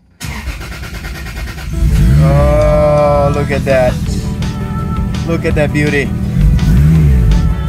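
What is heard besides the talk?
Toyota Supra engine starting and revving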